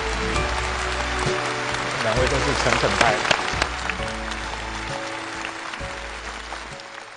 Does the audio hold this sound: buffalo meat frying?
no